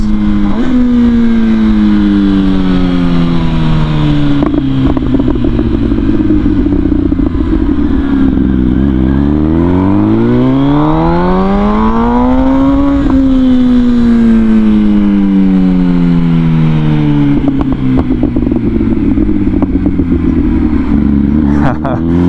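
An MV Agusta 1000 motorcycle with a modified exhaust and removed exhaust valve servo revs loud and close, engine pitch climbing and falling through repeated throttle sweeps, with brief mechanical clatter in between.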